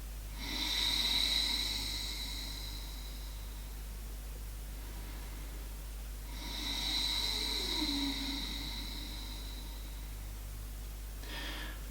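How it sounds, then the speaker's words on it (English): Ujjayi breathing, with air squeezed through the constricted throat, comes as two slow, hissing, slightly raspy breaths several seconds apart. The breaths are close and soft against a steady low hum, and no one speaks. "you force the air in such a way that it makes this sound like this."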